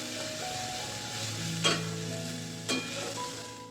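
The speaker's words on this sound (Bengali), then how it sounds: "নাড়াচাড়া করে এটাকে আমি ভেজে নেব।" Ground bottle gourd leaves stirred and fried in oil with black cumin, a steady close sizzle broken by two sharp scraping stirs of the spoon against the pan.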